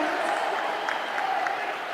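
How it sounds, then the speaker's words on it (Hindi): Steady applause from a large rally crowd welcoming the Governor at a public event in Karahal, Madhya Pradesh, a dense continuous wash of clapping held at even loudness for the full stretch. "आइए जोरदार तालियों से माननीय राज्यपाल महोदय का भी अभिनंदन करें, स्वागत करें, भरपूर तालियों से नवाजें।"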